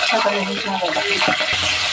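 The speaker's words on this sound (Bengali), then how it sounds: "দেখেন না কি ফুটা ফুটতেছে মাছগুলো ভাজা" Pabda fish frying in hot oil, a steady close sizzle with scattered stirring and spatula clatter running through the two seconds.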